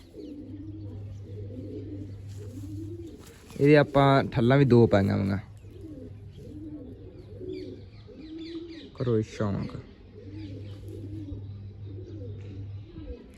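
Pigeons from a fancier's loft coo in low, rolling calls through most of the stretch, briefly covered by someone speaking Punjabi in two short bursts.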